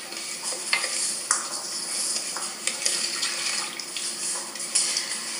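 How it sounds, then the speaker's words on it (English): Sugar is stirred in a pan until its crystals dissolve, making a steady close hiss with regular scraping strokes of a spoon across the bottom. "Make sure that all the crystals are nice and dissolved."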